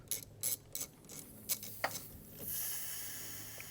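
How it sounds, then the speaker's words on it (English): A few sharp mechanical clicks and rattles as a defective AC service port valve is pulled on a GM car, then a steady, loud hiss of rushing vacuum air begins and keeps going to the end. "you're going to hear a big hiss from the vacuum when you first get this guy pulled"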